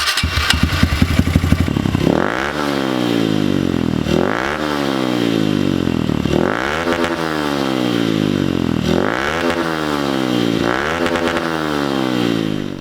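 A Honda CRF110 dirt bike engine with a lightened starter ring starts with a rattling crank, then runs with a loud, rhythmic revving that rises and falls about every two seconds, close by.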